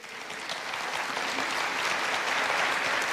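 Worship audience at a Thursday adoration service clapping, a continuous wash of hand claps, fairly distant and even in level, with no voices standing out.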